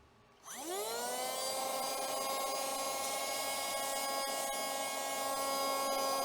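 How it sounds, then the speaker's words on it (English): A Temu mini USB vacuum with its blower attachment spins up from quiet into a steady, high-pitched motor whine that holds loud and close, with no talking. "Why don't we put the blower on it and see what happens?"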